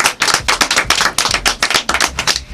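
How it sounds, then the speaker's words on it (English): Audience applause after a speaker's call for a round of applause at an African community show, dense, loud and continuous clapping from a crowd, with bursts of individual claps over about two and a half seconds. "Let's give him a round of applause"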